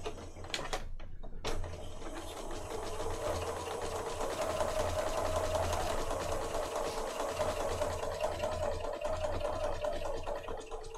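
A sewing machine stitches a pocket for a junk journal, a steady close mechanical whirr and rapid needle chatter running continuously after a few sharp clicks at the start.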